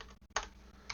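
Two brief, close keystrokes sound on a computer keyboard, a sharp click followed by a softer one, against a quiet room hum.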